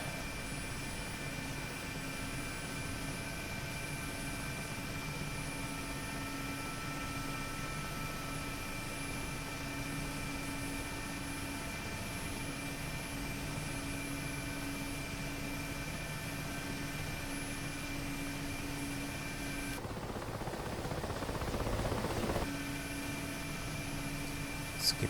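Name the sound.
Mi-8MTV2 helicopter taking off vertically, DCS video game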